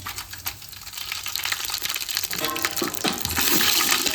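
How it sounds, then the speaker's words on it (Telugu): Whole spices sizzle and crackle in hot oil in a pan for pulao, a steady, close frying hiss with scattered pops and no voices. "మసాలా దినుసులు అన్నీ వేగిపోయాయి."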